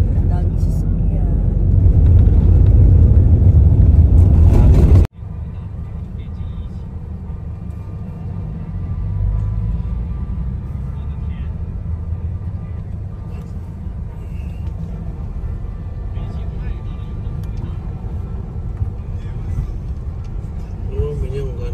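Heavy road traffic in Sorsogon, Bicol rolls past as a continuous rumble of many vehicles, loud at first and then steadier and lower, with people talking over it.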